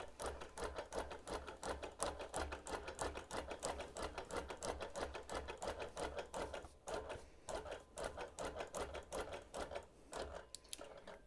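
A sewing machine runs across a quilt in short, rapid bursts of stitching, its needle ticking in quick regular clicks with brief pauses between runs, close and fairly quiet with no talking.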